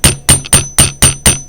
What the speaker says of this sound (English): I will hammer my clasp